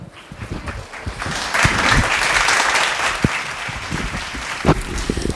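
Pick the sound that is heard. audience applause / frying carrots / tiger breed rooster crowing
audience applause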